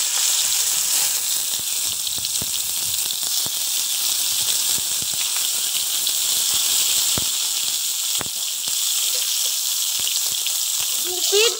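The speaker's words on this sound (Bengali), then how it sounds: "দু পিঠ ভালো করে ঢেকে ঢেকে হালকা আছে ভেজে নেব" Egg paturi wrapped in pumpkin leaves fries in hot oil in a wok, giving a loud, steady sizzle and hiss that holds without a break from start to finish, with no talking.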